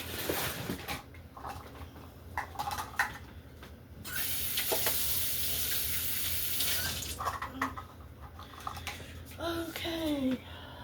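Measuring cups rinsed under a running kitchen tap, a steady broadband water rush through the middle of the clip, with brief clinks and splashes before and after, close and moderately loud.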